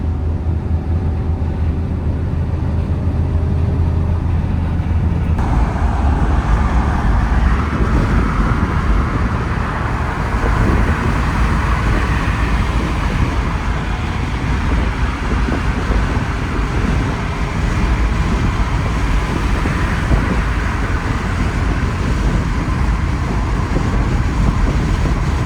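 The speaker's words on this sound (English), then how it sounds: "Tiny amount of wind noise, but it's really quiet with the roof in." Steady cabin rumble of road and wind noise inside a Suzuki Cappuccino cruising at 112 km/h with the roof in, a continuous broadband drone that stays even and fairly loud throughout with no talking.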